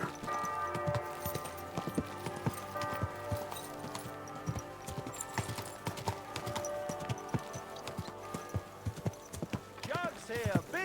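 Horse hooves clip-clop steadily through a town street in Kingdom Come: Deliverance 2, with rhythmic close steps under speech, music and bustling town ambience, ending in a whinny.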